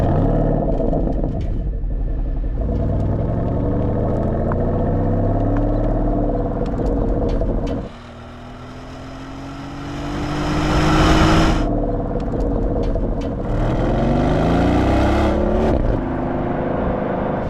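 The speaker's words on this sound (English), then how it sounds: "One of the other nice things about the Cayenne S is just how lovely it sounds." A 2024 Porsche Cayenne S with a twin-turbo V8 drones loudly and steadily, then dips and rises again through several rising revving sweeps as it accelerates, with no talk.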